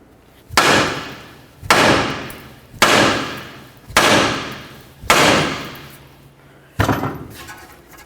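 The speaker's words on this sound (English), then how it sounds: "I'm going to give this a couple loving bonks to try to break it free." Six loud, evenly spaced metal hammer strikes on the tie rod end of a 2007-12 Dodge Caliber steering knuckle, each a sharp close impact that rings out and decays before the next blow.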